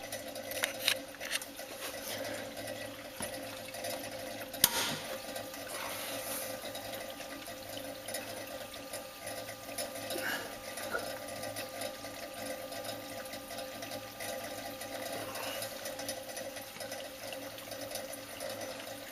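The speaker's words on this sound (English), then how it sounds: "go over to the spot welder and you turn it on, and that's this" A spot welder switched on and left running, giving a steady electrical hum and faint whir that holds evenly throughout, with a single brief sharp click partway in and no talk.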